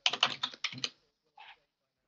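Light typing on a computer keyboard: a quick burst of clustered key clicks, a pause, then one short final tap, close and clean with no talk.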